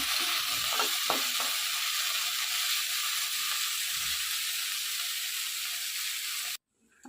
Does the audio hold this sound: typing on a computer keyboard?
no